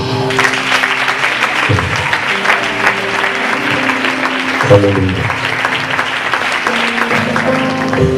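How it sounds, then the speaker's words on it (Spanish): A church congregation applauds together during a sermon, a dense, loud wash of clapping that fills the room, with a voice calling out over it and a brief shout in the middle. "Pues damos un aplauso al Señor"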